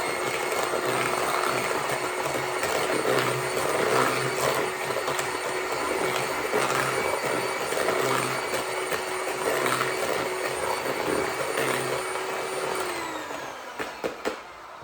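An electric mixer runs at fast speed through Christmas cake batter, a steady loud whirring drone that holds for most of the stretch, then winds down near the end.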